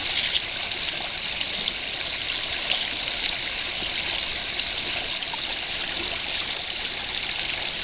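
Creek water below Watson Dam rushes and trickles steadily over rocks near a mountain trout hole, a constant close hiss with no talking.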